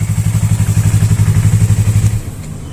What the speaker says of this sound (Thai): ผมขออนุญาตดับเครื่องยนต์นะครับ